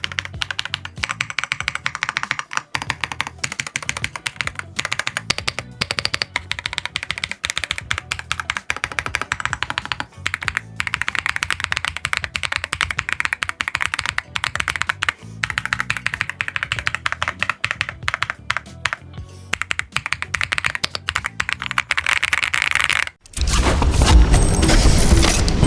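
Rapid, steady typing on a Rapoo V700DIY-98 mechanical keyboard, picked up by a microphone placed close to it, with dense continuous key clacks for about 23 seconds and then a short louder burst of noise at the end.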